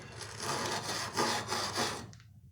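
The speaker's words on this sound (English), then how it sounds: "little wire brush like this help you get that cleaned out" A small wire brush scrubs inside the fuel tank half of a McCulloch 1010A chainsaw, giving close, steady raspy strokes that stop abruptly near the end.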